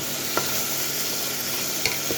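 Mung dal spices sizzle steadily in a hot pan, a continuous close frying hiss broken by a few sharp scrapes of stirring, with no talking.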